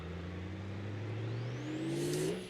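A diesel engine in the BeamNG driving game revs steadily upward while climbing a mountain, its loud low drone rising in pitch and ending with a brief turbo-like whine near the close.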